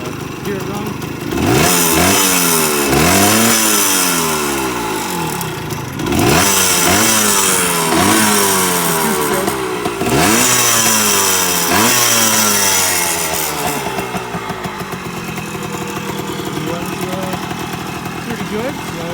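A 1978 Kawasaki KE100 motorcycle runs loudly up close, its small engine revved repeatedly in rising and falling bursts before settling toward a steadier idle near the end.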